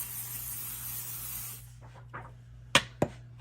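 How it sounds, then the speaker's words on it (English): Pixie spray mists onto the back of a stencil in one sustained aerosol hiss lasting about a second and a half, followed by a few small taps and clicks. "I'm going to take my pixie spray and spray that on the back of the stencil."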